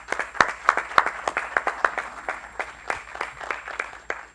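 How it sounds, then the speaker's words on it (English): An auditorium audience at a volcanology symposium claps after a talk, a thin scattering of individual claps with a few sharp close ones, steady for several seconds without voices. "A big applause."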